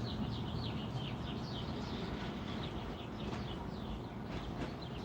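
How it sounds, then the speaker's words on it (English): Several birds chirp and tweet in quick, repeated calls over a steady outdoor hiss, fairly close and continuous. "I could just sit here and just listen to those birds."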